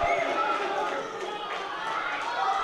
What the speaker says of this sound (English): Let's just listen to the crowd react to this action